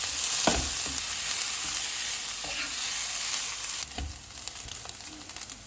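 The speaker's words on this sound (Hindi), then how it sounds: "प्याज को नरम होने तक फ्राई करेंगे" Onions fry in hot oil over a low-to-medium flame, a dense continuous sizzle with a few stirring knocks, heard close and without talk.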